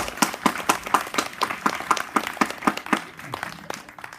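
A live audience claps for a special guest at a variety show, a modest crowd's quick irregular handclaps rolling steadily and close, gradually thinning toward the end.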